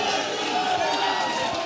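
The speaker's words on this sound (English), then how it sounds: "This crowd is on their feet" A wrestling crowd at an indoor UCW-Zero show stands and roars after a dive off the top of a cage, a dense, sustained wall of cheering and shouting that stays loud for the whole moment.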